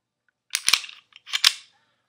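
A Beretta PX4 Storm pistol cocking and firing: two sharp, close mechanical snaps about three-quarters of a second apart, each with a short metallic ring, in an otherwise quiet room.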